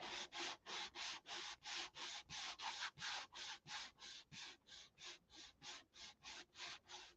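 Rhythmic hand sanding, about twenty steady back-and-forth strokes of abrasive rubbing, close and fairly loud, with no talking.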